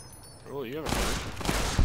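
Gunfire in the Fallout: New Vegas video game, a burst of rapid shots breaking in suddenly after a short wavering tone and continuing loudly to the end.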